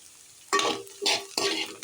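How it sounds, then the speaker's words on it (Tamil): Vegetables for egg fried rice are sautéed in a pan, with three quick scraping strokes of a spoon or spatula and a light sizzle between them, close and fairly quiet. "இதெல்லாம் கொஞ்சம் நேரம் வதக்கிட்டு, ரொம்ப வதக்க வேணாம்,"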